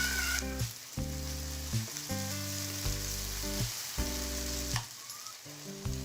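Steady sizzling of onions frying in hot oil for a shrimp and Malabar spinach dish, close and fairly loud, with a low tonal hum and occasional stirring scrapes, no voices.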